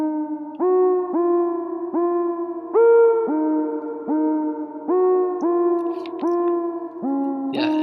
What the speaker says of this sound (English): it's just a really simple synth sound